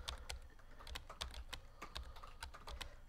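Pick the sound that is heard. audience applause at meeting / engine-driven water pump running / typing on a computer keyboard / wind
typing on a computer keyboard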